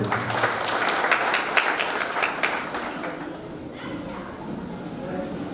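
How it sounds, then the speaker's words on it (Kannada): A crowd applauds loudly at a village welcome-home ceremony for a returning soldier, dense clapping that swells for about three seconds and then thins to scattered claps under lingering murmurs and a voice. "ಅದಕ್ಕಾಗಿ ಜೋರಾದ ಚಪ್ಪಾಳೆ ನೋಡಿ"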